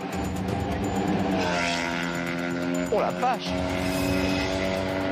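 A motorcycle speeds toward police on a city ring road at about 172 km/h. Its engine drones steadily and loudly under traffic noise, and a man exclaims partway through.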